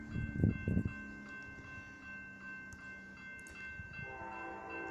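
A southbound Amtrak Coast Starlight train passing at a distance, with a low rumble and a horn-like tone that hold steady, plus a brief thump near the start and no talking.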